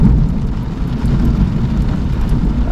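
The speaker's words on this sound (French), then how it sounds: "Des gros coups de tonnerre," Violent thunderstorm near Pithiviers with an arcus cloud passing, steady dense rain and a low, broad rumble of thunder filling the whole stretch, loud and close with no talking.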